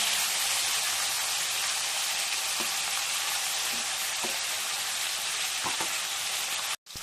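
Many tangra fish fry together in hot mustard oil, a dense, loud, continuous hiss with a few soft pops and clicks, before cutting off abruptly at the end.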